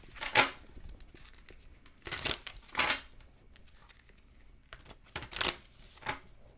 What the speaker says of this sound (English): 3 more shuffles, they said.